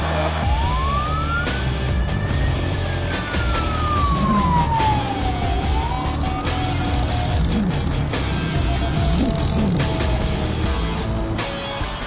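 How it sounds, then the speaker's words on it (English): A fire department vehicle's siren wails up and down, heard from a distance over the steady rumble of nearby traffic and road noise. "They got the fire department coming."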